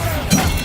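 A Bombarda blasting spell cast in the game Hogwarts Legacy, a short loud explosive burst with shattering crackle amid steady background game noise.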